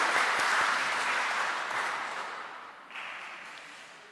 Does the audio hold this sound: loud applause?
yes